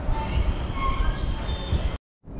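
A train at a station in the Netherlands rumbles loudly and close, with wheel noise and a high squeal, before the sound cuts out abruptly and resumes.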